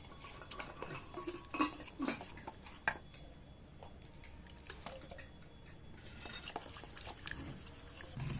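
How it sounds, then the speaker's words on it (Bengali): Raw potato and flour batter being mixed with water in a bowl, giving quiet wet stirring and scraping with a few sharp utensil clinks against the bowl, close and alone. "এবারে আস্তে আস্তে একটু করে জল দেবো আর ব্যাটারটা আমি তৈরি করে নেব"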